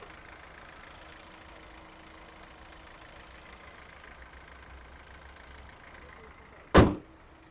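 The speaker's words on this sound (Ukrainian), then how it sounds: "Двигун працює чітко" A 2013 Hyundai Accent engine idles with a steady low hum for several seconds, then a sharp loud thump cuts in near the end.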